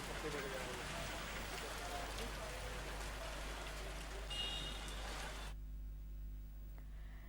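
Steady rain falls in Jaipur, a dense even hiss of drops on surfaces that runs for several seconds before cutting off abruptly, leaving a faint low hum.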